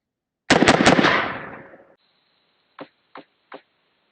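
Rifle rounds fired into Level IIIA soft body armor: a loud rapid burst of several shots that rings out and decays, followed by three further sharp, quieter reports spaced evenly apart.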